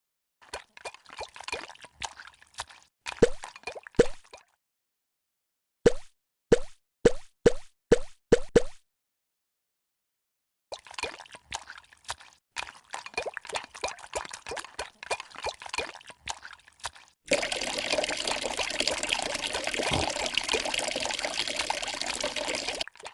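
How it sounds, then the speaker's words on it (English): Stirring a Christmas pudding in a cartoon, heard as a series of soft, wet plopping strokes in short bursts separated by pauses, ending in a steadier, denser stretch of squelchy mixing. "You can stir the Christmas pudding, and don't forget to make a wish."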